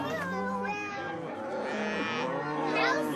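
Cattle lowing on a farm pasture, several overlapping moos, close and fairly loud with rising and falling tones.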